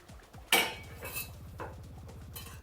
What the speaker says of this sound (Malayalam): ഇനി ഇതൊന്ന് അടപ്പ് മാറ്റിയിട്ട്